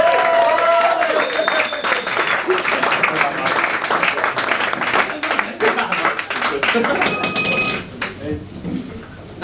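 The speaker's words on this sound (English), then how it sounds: "Give a round of applause" A live comedy crowd at the Edinburgh Fringe 2012 claps and cheers loudly and steadily for about nine seconds, with a few tonal music stings sounding over the noise before it thins out at the end.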